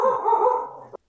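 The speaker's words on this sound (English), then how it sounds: "That's just my dog. She barks once in a while." A dog gives one loud, close bark, held briefly and then cut off abruptly, with nothing else heard.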